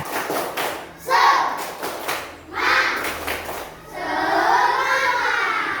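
A classroom of children at an Indonesian school performs a spirit clap, chanting together over a few rhythmic bursts of clapping that rise and fall before a longer sustained group shout.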